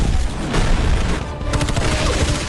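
A dense, sustained burst of gunfire in a film shootout with robbers, loud and continuous with overlapping shots and rumbling booms, no pause for the full stretch.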